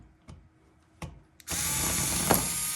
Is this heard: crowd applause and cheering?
no